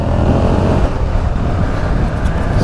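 Suzuki SV motorcycle ridden two-up, the engine a loud, constant low rumble mixed with broadband wind and road roar close to the rider, steady throughout.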